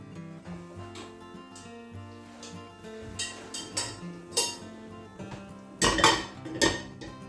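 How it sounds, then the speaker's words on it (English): Metal pots and pans clank and ring while pasta is drained for spaghetti with lemon ricotta and Parma ham, a series of close, sharp knocks growing busier and louder toward the end over a soft kitchen background. "we'll just drain that pasta"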